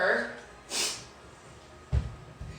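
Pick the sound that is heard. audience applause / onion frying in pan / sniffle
sniffle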